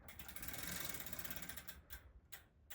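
A bicycle chain turns steadily as the crank is rotated slowly by hand during oiling, giving a continuous close mechanical whir and clicking that breaks into a few short separate bursts near the end.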